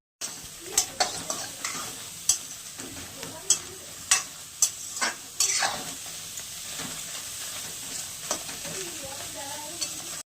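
Ginger and tomato frying in a pan for a chicken curry, with sharp spoon scrapes and stirring clatters during the first six seconds, then a steady, close sizzle continuing alone.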